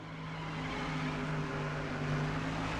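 A race car engine in NASCAR Thunder 04 at Pocono drones steadily and loudly at near-constant revs throughout, with no voices over it.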